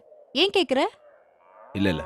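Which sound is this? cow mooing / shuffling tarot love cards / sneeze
cow mooing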